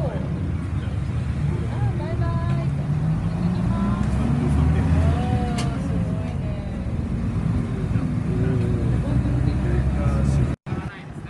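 Japan's oldest operating bonnet-nose route bus in Fukuyama, Hiroshima, pulls away with its engine rumbling steadily and loudly throughout, while people talk over the drone.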